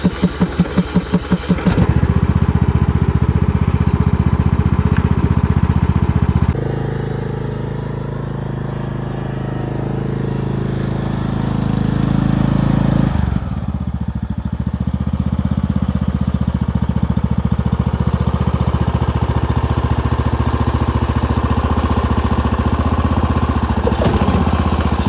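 A cold-started old lawnmower engine on a 65-degree day in Maine, run without choke: cranking pulses give way to a loud, steady engine drone that dips briefly in the middle, then settles back to a constant close-up running note.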